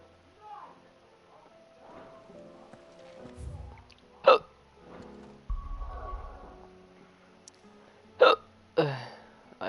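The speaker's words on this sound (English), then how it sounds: "I have hiccups all of a sudden." A person gives two sharp, abrupt hiccups several seconds apart, close to the microphone, between stretches of soft speech and game sounds from Final Fantasy XVI.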